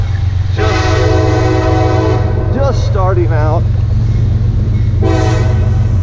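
A train passes through Thayer, West Virginia, under a constant low rumble, sounding its horn in a long sustained blast, then a wavering call, and another blast near the end, while someone talks.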